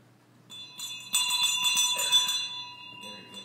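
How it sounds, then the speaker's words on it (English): A bell is rung at the start of a Lutheran church service, with bright, sustained metallic ringing for about two seconds before it fades out. "So who would like to ring the bell?"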